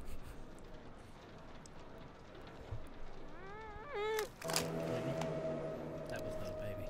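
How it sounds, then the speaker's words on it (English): A cat gives a clear, drawn-out wavering meow midway, then another sound begins, with steady low background noise and no clear speech. "That was not a baby. It's a cat."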